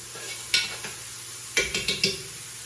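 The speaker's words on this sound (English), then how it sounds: "I'm going to saute it until the onions are clear" Onions sauteing in a pan, with a few sharp utensil scrapes and stirs standing out over a soft background, no talking.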